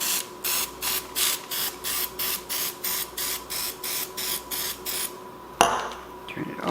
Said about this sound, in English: I'm spraying my food.